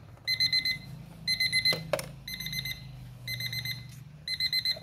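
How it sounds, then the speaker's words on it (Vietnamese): A Japanese quartz alarm clock rings in rapid electronic beeping bursts, about five regular clusters roughly a second apart, loud and close, with brief handling clicks between. "Đó, bắt đầu chuông kêu."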